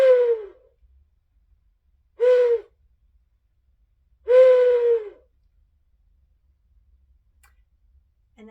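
A large owl-call whistle, a musical instrument, sounds three separate low hooting notes with pauses between them, close and clear in a quiet room.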